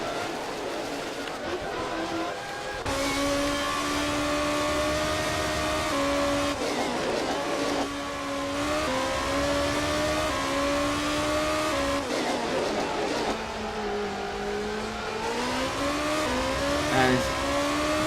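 A Powermax race car in CGP2 practice at the United States round screams through a lap, its engine note climbing and dropping through repeated gear changes, loud and close throughout.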